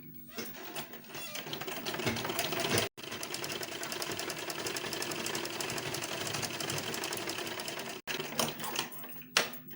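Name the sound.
sewing machine stitching a blouse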